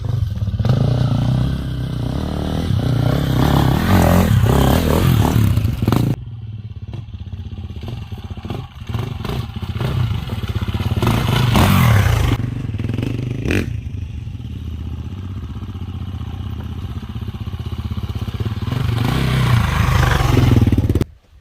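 KTM 350 EXC, GasGas 350 EC and Husqvarna FE350 dirt bike engines run loud and close, a continuous rough drone with clattering mechanical noise and brief dips and swells throughout.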